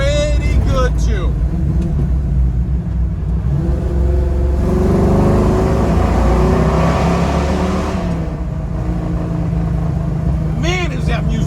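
1971 Chevrolet Nova engine rumbling loudly and continuously, with the pitch rising under acceleration and then dropping on a downshift, while someone talks over it inside the car.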